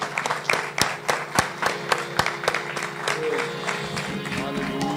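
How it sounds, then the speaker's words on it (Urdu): Congregation clapping in a church worship service, a crowd of hands applauding together with irregular sharp claps over a dense, roomy wash of sound. "ہم اپنی خوشی کا اظہار اس کے حضور میں تالیوں کے ساتھ کریں گے"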